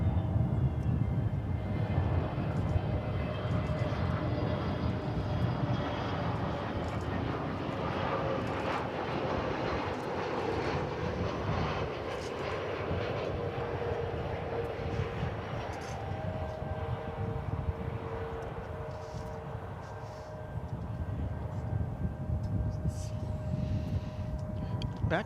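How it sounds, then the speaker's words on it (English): A Frontier Airlines jet at DFW Airport produces a sustained engine rumble and roar that eases off slightly toward the end, with people talking throughout. "Here's the Frontier flight with the lizard on the tail."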